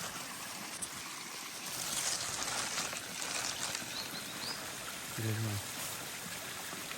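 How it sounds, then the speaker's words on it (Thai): Flowing water in a forest stream makes a steady, soft rush that fills the whole stretch, with a brief bird call and faint sounds from people nearby. "โอ้ น้ำไหลมาสวยมากทุกคนดูดิ"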